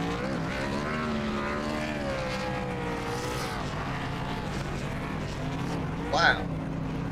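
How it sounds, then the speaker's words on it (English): A race car in a racing video game revs through burnouts to celebrate a championship at the Apex Racing Cup Series Manchester Music Mill 150. The engine drones loudly and steadily under commentators talking, with a brief sharp screech near the end. "He is going to come down here and do some burnouts and celebrate a championship."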